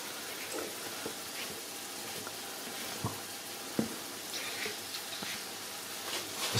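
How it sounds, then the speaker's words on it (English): Onions and leeks sautéing in butter and oil in a pot, a soft steady sizzle with faint crackles and a few sharper clicks of a spoon, fairly quiet and close, no voices. "add the onions and the leeks and let those saute for about 5 minutes"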